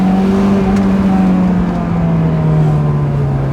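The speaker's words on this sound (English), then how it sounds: "I want to get it up a little bit higher on VTEC. So let's see if I can get it on VTEC" A Honda S2000 engine drones loud and steady at high revs on VTEC, its pitch holding nearly level with a slight downward drift, with no voices.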